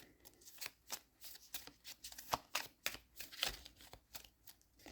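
Tarot cards are shuffled close up in a quick, irregular run of crisp riffling and flicking slaps, quiet and dry, with no talk.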